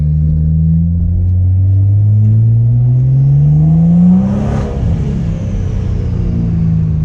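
A BMW B58 inline-six turbo engine in an F30 with an aftermarket intake and charge pipe drones loudly and steadily from inside the car, its pitch climbing smoothly under acceleration, with a faint turbo whistle and a brief surge partway through.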